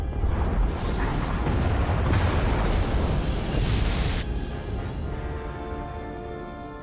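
Huge explosion tearing apart the pod bays during an evacuation in Star Wars: The Old Republic, a loud sustained blast with crackling debris that rumbles and slowly fades near the end.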